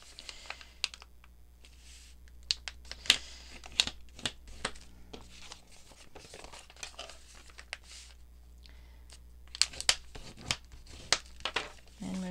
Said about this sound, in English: I'm folding the pocket now.